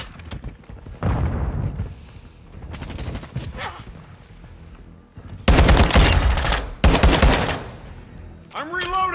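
Repeated bursts of automatic gunfire from the video game Modern Warfare II, loud and close, coming in several sustained volleys with brief pauses, with voices talking between and over the shots.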